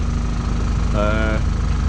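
A sailing boat's engine idles while warming up on a calm sea off the UK coast, a steady, close, mid-pitched rumble running throughout with a short tonal sound near the middle.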